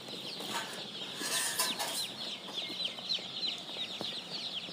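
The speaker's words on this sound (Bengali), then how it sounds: "কালার বাট মুরগির বাচ্চাটা নিলাম" Newly bought colour-variety chicken chicks chirping, a busy stream of high, thin peeps overlapping at moderate distance with no talk.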